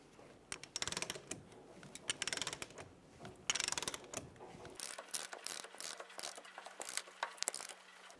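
Torque wrench tightening the rear axle nut of a 2000-2007 Ford Focus with a 30mm socket, rapid close ratcheting clicks in bursts with brief pauses between strokes.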